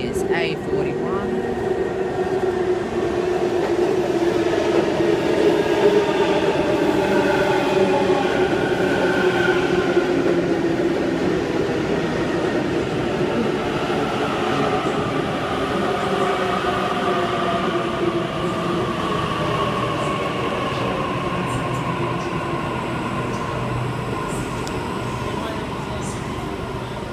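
A Sydney Trains train moves through Chatswood station during the afternoon peak. It makes a steady rumble with high, drawn-out wheel squeals throughout, and a station announcement voice sounds over the noise.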